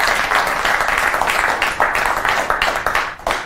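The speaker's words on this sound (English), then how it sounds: "the round of applause is for them" A short burst of magic-show audience applause, many hands clapping in dense, rapid bursts at a lively, moderate loudness.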